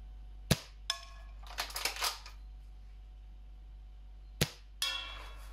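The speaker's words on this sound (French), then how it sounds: "le bruit vraiment très furtif que le snipe fait" Two sharp, quiet shots from a KJW M700 custom airsoft sniper rifle, each followed by faint metallic clicks and rattles of the mechanism, against a low steady hum.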